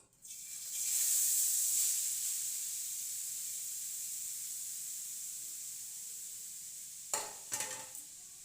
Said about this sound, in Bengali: এটাকে এবার একটু আমি ঘি দিয়ে ভেজে নেবো